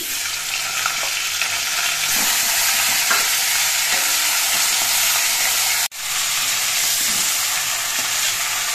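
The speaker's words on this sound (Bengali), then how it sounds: "এবার মাছের মাথাটা আমি ভেজে নিচ্ছি।" A fish head frying in hot mustard oil, already darkened from earlier frying, sends up a loud, dense, continuous crackling sizzle that cuts off abruptly for a moment near the end and then resumes.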